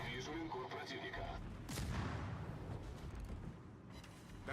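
In a naval video game, a ship's gun fires one distant-sounding boom followed by a low rumble, fairly faint beneath an ongoing voice.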